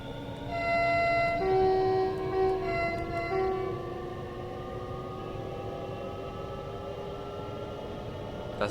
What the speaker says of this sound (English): Watch the train whizzing past.